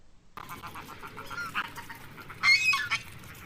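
A duck gives a few short nasal quacks after a brief silent start, the loudest burst near the end, clear and close with nothing else around.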